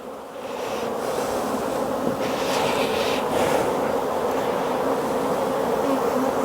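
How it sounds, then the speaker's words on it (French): Honeybees swarm densely inside a small overwintered hive box, a thick, continuous, close buzzing drone that holds steady and loud throughout. "Alors c'est bourré d'abeilles au fond, hein."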